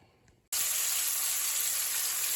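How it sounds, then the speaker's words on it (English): After a brief quiet moment, a steady, bright hiss of cabbage greens and meat for yakisoba sizzling in a hot pan starts abruptly and continues evenly. "we're up to a nice good sizzle"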